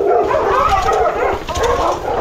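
Several dogs bark and whine together in a loud, continuous chorus, voices overlapping close by.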